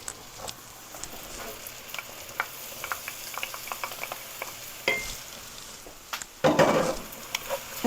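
Garlic tipped into caramelized onions in a frying pan for beef stroganoff, a soft, steady sizzle with scattered crackles and a louder scrape and clatter of stirring near the end.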